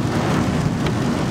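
Heavy rain pounds a moving car on a wet road just above freezing, a dense, steady roar of water and tyre hiss filling the cabin, with no talk.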